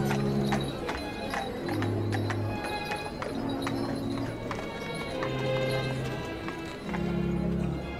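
Horse hooves of a horse-drawn tram on a street, a steady clip-clop of trotting hooves with ringing metallic accents and low rumbling underneath, moderately close and continuous, with no speech over it.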